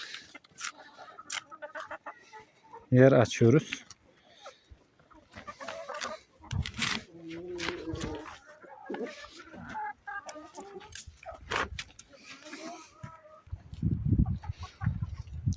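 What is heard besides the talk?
chickens clucking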